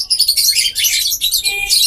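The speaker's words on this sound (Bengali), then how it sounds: "লাল চোখের একদম দেখেন কোকাটেল পাখি" A pair of red-eyed albino cockatiels gives loud, shrill chirping calls in dense repeated bursts, close up, with no talking.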